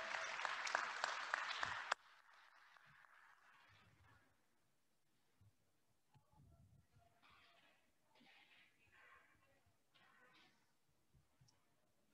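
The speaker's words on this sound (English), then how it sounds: "So let's give that row a nice round of applause." Brief loud burst of audience clapping at a spring honors convocation, lasting about two seconds before cutting off into a quiet room with faint shuffling and small scattered noises.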